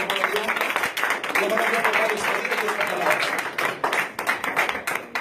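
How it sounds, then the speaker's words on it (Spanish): A church congregation at a baptism service applauds to God, a dense, sustained wash of clapping from many hands that holds strong throughout, with some voices mixed in. "Un aplauso fuerte a Dios"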